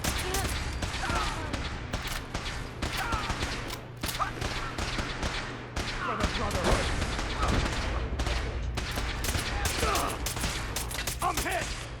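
Gunfire in Fallout 4 survival mode: rapid, repeated shots and clattering bursts running nearly nonstop at moderate distance, with mechanical clicks and scattered voices mixed in.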